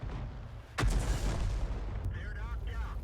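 A heavy artillery blast from an M44 self-propelled gun in a tank battle video game booms out suddenly and loudly, then rumbles on under engine noise, with a second sharper report near the end and a voice talking over it.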